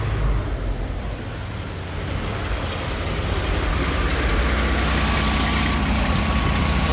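An old GMC truck's big V6, idle for eight years, runs steadily on fuel sprayed into it, a continuous close rough idle with a low rumble and no talk over it.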